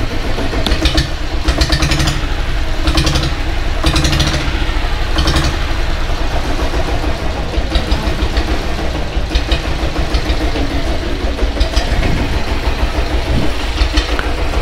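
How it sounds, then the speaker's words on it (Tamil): A 1997 company diesel Bullet motorcycle idles close by, its exhaust putting out a loud, steady low thumping beat with even mechanical ticking on top, heard alone without voices. "எக்ஸாஸ்ட் நாய்ஸ் மட்டும்தான் வருது."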